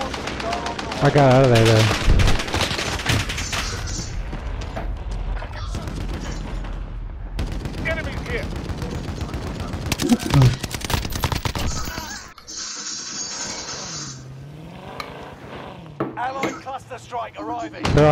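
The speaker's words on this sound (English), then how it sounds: "Someone's fucking shooting. Taking shots over here." Call of Duty: Warzone Resurgence gunfight: repeated bursts of automatic fire and single shots with booms and thuds, loud and close, mixed with players talking throughout and quieter stretches between volleys.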